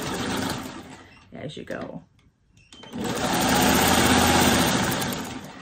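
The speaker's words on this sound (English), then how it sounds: "I'm sewing on my old Singer. It's a 1591." An old Singer 1591 sewing machine stitches quilt scraps with a fast, steady mechanical whir that stops briefly and then starts again. Someone speaks briefly over the running motor.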